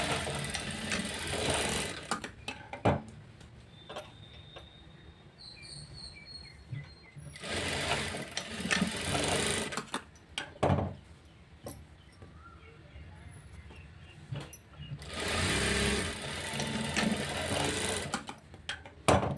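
A sewing machine stitches a blouse lining to georgette fabric, running in three long whirring bursts with quieter handling sounds between them and a voice faintly speaking in the pauses.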